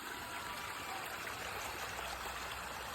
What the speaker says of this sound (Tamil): மிக அழகான நீர்வீழ்ச்சி.